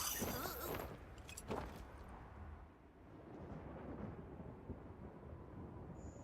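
A thunderstorm downpour in the video game Monster Hunter Wilds brings a low, heavy rumble and crackle of thunder at first. Dense, steady rain noise follows and continues throughout, moderately loud, with no clear talking.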